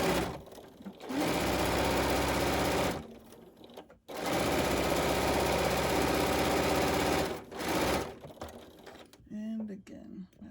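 A sewing machine stitches a frame around a curvy fabric letter O in long steady runs of rapid mechanical chatter, broken by short pauses and ending with brief quieter handling noises.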